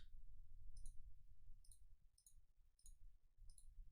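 A computer mouse clicks five times at a slow, uneven pace, sharp and close against a quiet low background hum.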